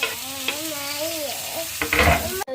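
A voice speaks first, then tomatoes hit hot oil with browned onion in a pan, giving a sudden loud burst of sizzling and stirring near the end.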